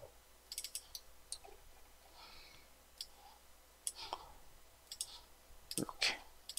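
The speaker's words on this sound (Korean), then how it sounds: "다시 한번 클릭, 클릭, 클릭, 클릭, 클릭" Computer mouse clicks while modeling in Rhino 3D, a series of sharp, quiet clicks in irregular bursts against a low background hum, with a few louder clicks near the end.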